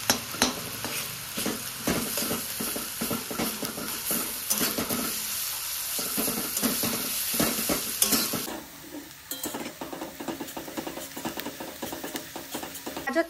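Carrots frying in hot white oil in a heated wok, a steady broadband sizzle with rhythmic scraping and clinking of a stirring utensil, loud and close, easing to a quieter, sparser crackle partway through; no one speaks.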